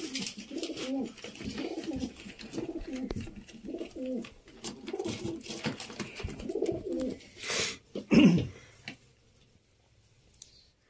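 Kasuri golden dab pigeons coo repeatedly in low, throaty rolling phrases, close by, with a few clicks and rustles; the cooing stops near the end, leaving quiet.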